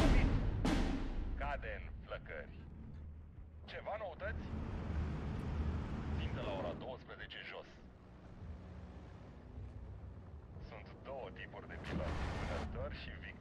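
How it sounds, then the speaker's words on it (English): Mortar counter-battery fire in the World War II strategy game Steel Division 2, with several muffled booms and impacts spread across a rumbling battlefield backdrop, some sharp bursts near the start and end, and a voice talking over it. "My mortars are now automatically counter-battering with the fire position order."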